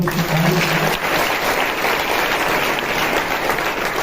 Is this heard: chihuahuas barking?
no